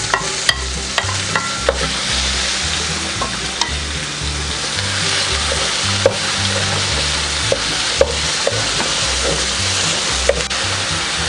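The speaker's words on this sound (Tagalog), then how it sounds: "Ngayon pong medyo nag golden brown na po yung ating bawang, ay isusunod na natin ang ating sibuyas." Garlic frying golden brown in a pan as onion is added, a loud continuous sizzle with scattered sharp clicks and scrapes of stirring, close up and without talk.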